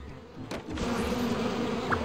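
Cartoon bees buzz in a steady, droning swarm for about two seconds, fairly loud and continuous after a brief rustling start, with no talking.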